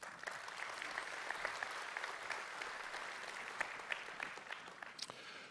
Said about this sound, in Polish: Poproszę o brawa dla nich.